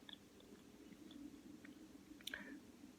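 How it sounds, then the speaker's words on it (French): Moringa seeds being chewed, heard as quiet, close-up mouth noises with soft crunches and scattered clicks over a low, steady hum. "Vous cassez le moringa, vous prenez le grain, vous mâchez."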